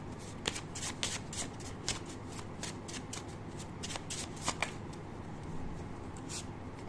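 Tarot cards being shuffled close by, a quiet run of rapid riffling flicks and soft slaps repeating in an uneven rhythm over a faint background hum.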